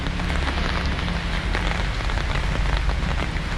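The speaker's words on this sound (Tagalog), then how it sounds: "talagang umulan na mga kanipi" Heavy rain falls steadily in a dense, continuous wash of pattering with no pauses, close and fairly loud.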